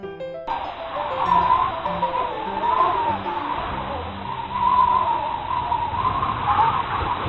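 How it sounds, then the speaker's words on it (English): Strong wind blows steadily for several seconds with a howling, wavering whistle rising and falling over a rushing, noisy background, after a brief musical intro. "That is the sound of a strong wind."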